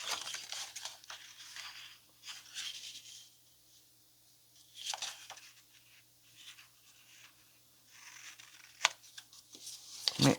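Decorative scissors snip and crunch through paper in short bursts, close and quiet, separated by pauses with faint rustling.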